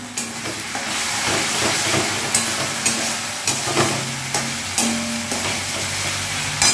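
Tomato paste hitting hot oil in a pan for an egg dhoka curry, a steady close sizzle with light scraping and periodic stirring knocks, no speech.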